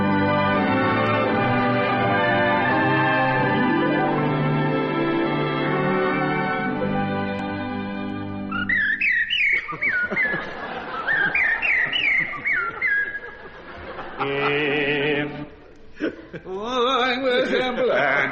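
A whistled imitation of blackbird song, made with two fingers in the mouth: bright warbling chirps and trills that rise and fall, arriving after a long sustained musical introduction and running alone to the end.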